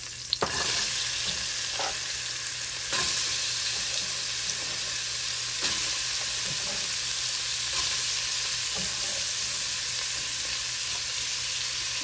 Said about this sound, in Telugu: ఇలా వేసుకున్న పచ్చిమిరకాయల్లో ఆనియన్స్ కూడా వేసి వేయిద్దాం